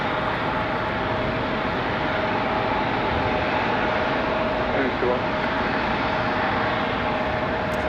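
A Boeing 747-8I jet passing at Raleigh-Durham airport, a loud, steady broadband engine roar that holds evenly throughout, heard outdoors from close range.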